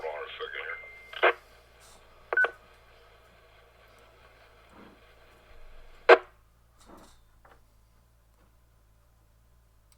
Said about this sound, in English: It sounds like you got some notifications going on there in the background